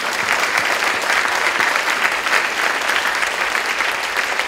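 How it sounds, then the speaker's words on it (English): Dense, steady applause fills a hall at an Arangettam classical dance recital, honouring the Nair family with loud continuous clapping from a large audience throughout. "So a big round of applause to the whole Giant Nair family"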